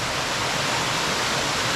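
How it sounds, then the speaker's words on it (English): Waterfalls along a brook high on a mountain ridge give a steady, loud, close rush of falling water that holds constant and unbroken throughout, with no voices. "Ton of waterfalls all the way up."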